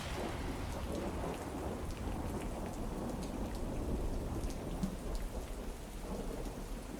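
Steady rain pours down in a stormy ambience with low rolling thunder beneath it, a dense continuous hiss of drops throughout and no speech.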